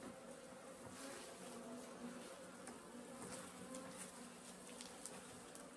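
Native honeybees from a strong hive buzz continuously in a dense, droning swarm during a honey harvest, close and steady throughout with a faint higher whine layered over the low hum.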